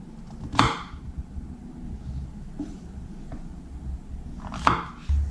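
Two sharp knife chops on a cutting board as button mushrooms are cut in half, spaced several seconds apart, with faint quieter taps between them.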